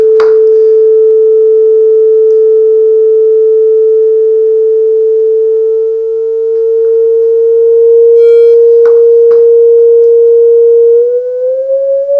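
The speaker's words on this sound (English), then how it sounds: "this is just going up into ultrasound. It'll be quite unpleasant." A loud, steady pure sine wave tone holds one pitch for several seconds with a few faint clicks, then begins gliding upward toward ultrasound near the end.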